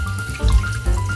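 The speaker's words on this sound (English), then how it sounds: "We start adding water into the mixer" Water poured into a stand mixer bowl for brioche dough gives a short, close gurgling splash in uneven pulses.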